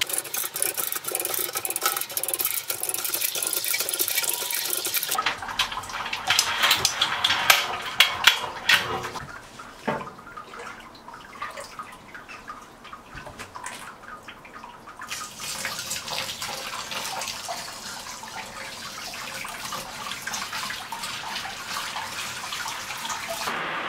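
Wort drains from a grain basket lifted on a chain hoist during the sparge of a Kveik pseudo lager brew, a continuous splashing pour that shifts in intensity and texture partway through and runs on without pause.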